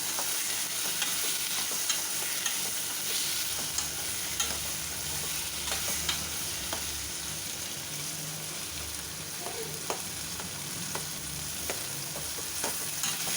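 Sautéing with asafoetida in a pan for sago upma, a continuous soft sizzle with frequent scraping stirs and small clicks of a spatula, close and fairly quiet.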